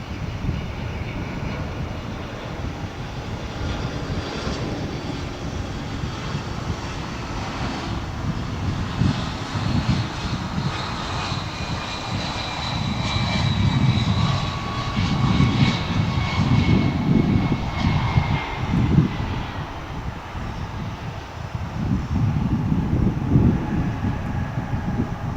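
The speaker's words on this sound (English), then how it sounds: "we should be seeing momentarily this A300 for your viewing pleasure on Runway DFW." Jet engines of an Airbus A300 on the runway at DFW airport roar steadily at a distance, a broad continuous rumble that swells and eases without speech.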